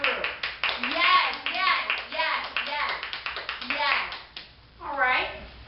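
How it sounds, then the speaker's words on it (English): A group claps for performers at an after-school program event, the applause mixed with children talking and cheering over it, steady and close throughout. "give me a hand of applause here. Hand of applause for my group."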